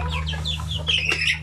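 Free-range native chickens cluck close by in a short burst of several rising clucks over a low steady hum.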